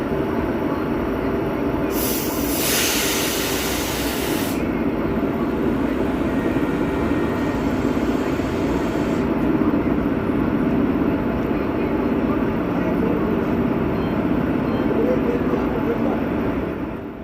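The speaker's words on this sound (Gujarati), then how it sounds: "આપણી ટ્રેન 7:42 આવી ગઈ છે પ્લેટફોર્મ નંબર 1 ઉપર" The Bhuj to Rajkot 09445 daily special train stands at platform 1 of a station on the Gandhidham to Rajkot line, with a loud, steady rumble throughout and a brief hissing burst near the start.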